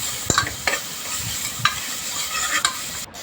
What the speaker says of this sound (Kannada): ಅರಿಶಿನ ಹಾಕ್ಕೊಂಡು ಒಂದು ಸ್ವಲ್ಪ ಫ್ರೈ ಮಾಡ್ಕೋಬೇಕು